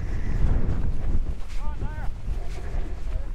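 Low rumbling buffeting of mountain wind hitting a microphone at a berry farm in Ireland, continuous and fairly loud, with faint other sounds in the background.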